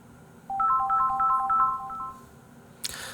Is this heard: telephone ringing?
yes